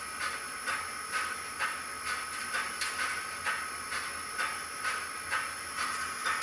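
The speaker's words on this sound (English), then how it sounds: "I'm playing around with setting the chuff just for the heck of it right now." A model steam locomotive, number 6755, chuffs in a steady, even rhythm of hissing puffs over a constant high whine, close and moderately quiet, with no voices.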